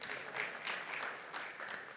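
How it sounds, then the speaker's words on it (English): A conference audience gives brief, quiet applause at the start of a security talk, a soft, dense patter of many hands lasting a couple of seconds. "that's clapping for you"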